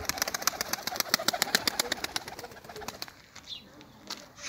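Pigeons coo in a loft in Ankara, Yenimahalle, with close, rhythmic wing claps or flutters in the first three seconds followed by softer coos and quieter movement.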